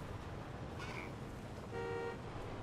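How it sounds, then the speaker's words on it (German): A short car horn honk sounds from a vehicle on a track in Jurassic World Evolution 2, a single steady toot over constant engine rumble. "Das fand er gar nicht cool, dass ich gehupt habe"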